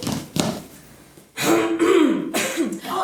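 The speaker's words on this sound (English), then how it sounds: "don't cough" A cough bursts out during a live stage performance of The Importance of Being Earnest, with a short early rasp followed by two louder, throaty coughs close to the microphone.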